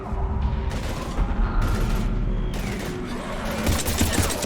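Rapid bursts of gunfire aimed at Husks in Mass Effect 3, loud and dense with mechanical clatter across a short, chaotic firefight.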